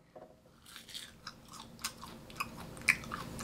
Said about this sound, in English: the crunch is there